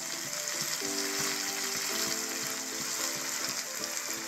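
Vegetable manchurian gravy with tomato ketchup and soy sauce sizzles steadily in a pan as it is stirred, a continuous close frying hiss with faint scraping, no voices.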